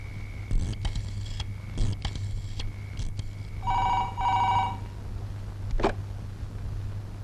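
A telephone rings in a quiet room, two clear electronic ring bursts in the middle amid soft clicks and handling noises, with no speech.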